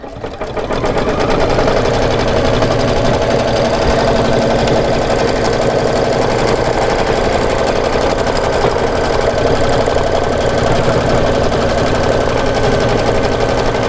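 An embroidery machine stitches a tack-down on a Kimberbell embroidery project, running loud and unbroken with a rapid, even mechanical chatter from start to finish.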